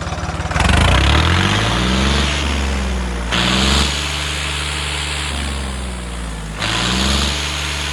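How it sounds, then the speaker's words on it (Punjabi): A John Deere 5310 tractor engine with a broken turbo idles close by, then revs up sharply three times, each surge roaring louder before dropping back to a rumbling idle. "ਰੇਸ ਮਾਰ ਮਾਰੀ ਟਰੈਕਟਰ ਦੀ"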